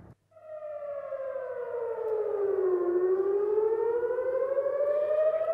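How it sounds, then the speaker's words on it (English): Red alert air raid siren wailing across Israel near the Dimona nuclear reactor, a steady loud tone that slides down then rises again, sounding alone without any voices for its whole length. "setting off red alert sirens near Israel's top-secret nuclear reactor in Dimona"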